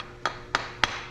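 Three evenly spaced, sharp metallic hammer blows strike a mokume gane ring to flatten it, each tap crisp and short with quiet gaps between.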